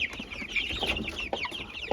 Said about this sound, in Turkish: Şurada da civcivleri var. Bakın etlik civciv almış.